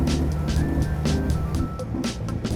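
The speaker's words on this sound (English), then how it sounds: "That's a serious honk there." A classic car's horn, from a Timbs Special or Hudson Italia, sounds in several sustained honks with brief gaps, loud and close over a steady background.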